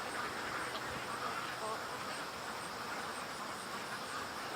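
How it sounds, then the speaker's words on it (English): Ducks quack amid steady outdoor noise near a creek, their calls faint and mixed into a constant broadband hiss with no clear individual bursts standing out. "I think the loon is freaking out the ducks."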